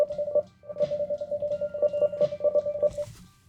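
Phone dialing in a video game: a quick run of steady electronic keypad tones, about a dozen short beeps in an even rhythm, clear and alone before a brief hiss at the end.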